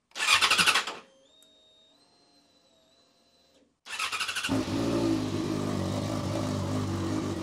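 A motorcycle engine cranks briefly, falls quiet with a faint electronic tone, then fires up and settles into a steady, close idle during a clutch cable test after a cable replacement, with no talking.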